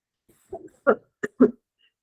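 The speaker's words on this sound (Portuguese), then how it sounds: "Tá bem difícil com essa tosse." One person coughs four times in short, dry bursts, close to the microphone, with brief silences between them in an otherwise quiet room.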